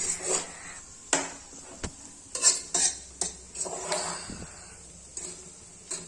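Rice tossed with oil in a hot pan, stirred in uneven scrapes and clinks of a utensil against metal over a faint sizzle, each stroke close and distinct with short pauses between.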